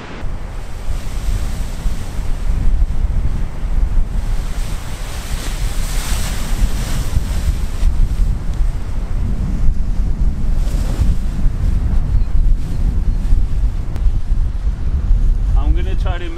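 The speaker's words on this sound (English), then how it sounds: "I think we've picked a very windy day, or a very big wing for this test." Strong wind roars steadily on a beach during a paraglider wing test, with surf washing in the background; the gusty buffeting stays loud and constant throughout.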